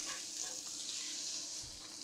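Mackerel skin sears in a pan over gentle heat, a faint, even sizzle with a soft high hiss and no voices.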